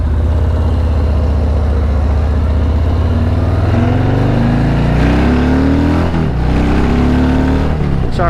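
A car engine revs up loudly and climbs steadily in pitch while accelerating to merge into Sunday morning traffic in Phoenix, Arizona, heard close from inside the vehicle.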